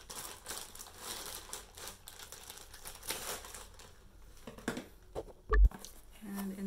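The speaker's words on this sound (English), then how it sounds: "So I have my scissors. I'm gonna open them." Plastic mailer bags holding a clothing and fragrance order crinkle and rustle as scissors cut them open, with close irregular crackling and a sharp snip or thud near the end.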